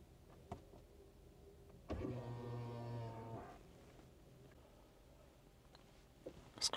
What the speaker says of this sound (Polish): Mamy też składane lusterka boczne, które tutaj są opcjonalne w pakiecie. Składają się dość mocno.